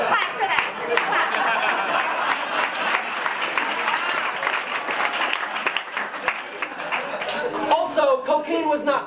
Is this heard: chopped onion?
no